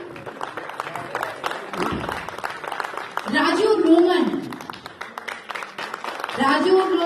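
Audience at a Ram Leela stage performance claps for the cast in short swells, the applause rising twice between stretches of an announcer speaking over a microphone.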